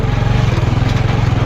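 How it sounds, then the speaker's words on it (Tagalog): A grass cutter engine runs steadily close by, a loud, continuous buzzing drone with a fast pulsing rhythm and no voices over it. "Check natin yung grass cutter dito."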